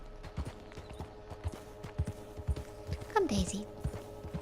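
Horse hooves clip-clop at a steady riding pace in Red Dead Redemption, a regular close rhythm of hoofbeats with a brief whinny near the end, under a man's quiet spoken words.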